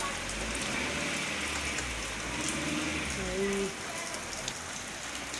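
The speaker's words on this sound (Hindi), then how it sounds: "भयंकर तेज बारिश हो रही है" Heavy rain in Delhi pours steadily across the whole stretch, a dense, even hiss of drops striking surfaces close by, with no voices.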